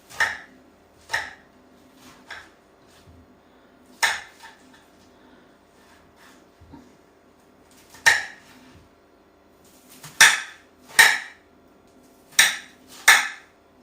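Knife chopping vegetables into small pieces for a salad on a board in a home kitchen, a series of sharp, close taps in irregular bursts with quiet pauses between them and no talking.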